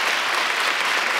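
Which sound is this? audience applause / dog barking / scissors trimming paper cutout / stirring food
audience applause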